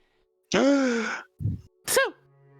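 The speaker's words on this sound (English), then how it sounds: "I'm gonna sneeze 1 second." Close to the microphone, one person sneezes during a tabletop Dungeons & Dragons session: a drawn-out voiced inhale, a short pause, then a sharp, explosive burst.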